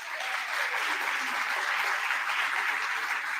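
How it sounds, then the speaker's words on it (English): An audience at a Pride Month gathering claps steadily and loudly throughout, a dense, even wash of applause with no talking over it. "if we want to give a round of applause to that."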